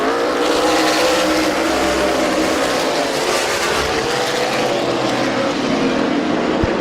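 Race cars roar around Midvale Speedway in close side-by-side racing, a loud, continuous wall of engine noise with shifting pitch as cars pass.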